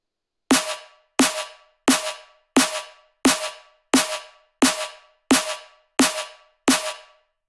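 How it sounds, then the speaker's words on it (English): A layered neurofunk drum and bass snare built in Ableton strikes ten times at an even tempo, each hit a punchy tonal body with a bright noisy tail, close and loud with nothing else present. "So all layers of snare sound like this."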